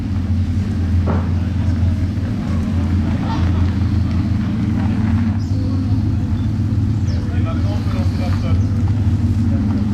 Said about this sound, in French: les 15 moteurs qui tournent actuellement, on n'entend que ça là, résonner dans le village